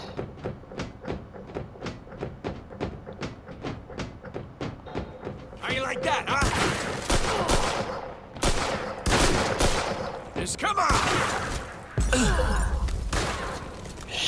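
Gunfire in the Mafia 2 video game: a steady run of sharp regular shots at first, then denser, louder bursts and impacts with crashes mixed in, and someone talking over part of it.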